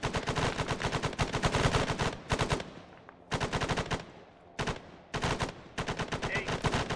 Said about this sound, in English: we are taking fire from the compound to the southeast